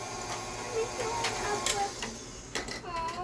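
An electric mixer blends dry ingredients for baked pumpkin fritters, giving a close, steady mechanical whirring with small clicks and knocks, while someone talks faintly over it.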